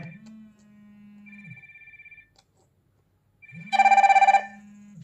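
A short Fire-Boltt Hercules smartwatch ringtone melody plays twice: a steady low tone with a higher pulsing beep, then a loud, buzzy burst of chirps, close and clear with no talking.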